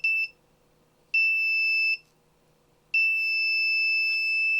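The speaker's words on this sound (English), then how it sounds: "When it detects the black line, it buzzes like that." Buzzer on an ESP32 line tracking module from a SunFounder starter kit sounds three steady high electronic tones, a short one then two longer ones, alone with a faint hum beneath.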